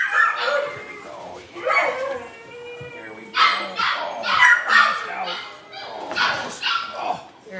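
A rescued dog barks, yips and whimpers close by in repeated short bursts separated by brief pauses.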